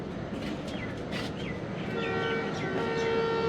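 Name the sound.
Jaffar Express passenger train running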